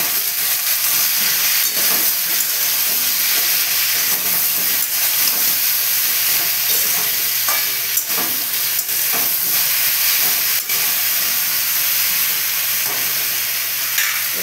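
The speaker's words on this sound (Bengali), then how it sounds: "এই যে পাশে গরম জল বসিয়েছি, এই জল ফুটছে" Water boils in a pot beside a pan of vegetables seasoned with salt and turmeric, giving a steady, close hiss and bubbling with sharp intermittent scrapes and clicks of stirring, no voices.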